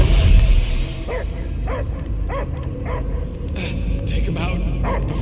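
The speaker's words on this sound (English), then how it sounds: "I hear only barking." A dog barks in the Marvel's Guardians of the Galaxy video game, with a series of short yips and barks spaced about half a second apart, heard under game music and ambient sound.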